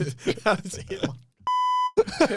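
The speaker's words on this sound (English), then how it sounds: "I had to beep that because I saw the F word coming." A single steady censor bleep, loud and pure-toned, lasts about half a second and cuts into the middle of a man's casual speech, covering a swear word.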